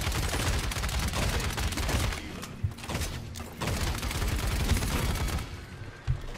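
Rapid bursts of gunfire in the Paladins video game, dense and loud, run almost continuously with booming thuds and a few heavier impacts scattered through.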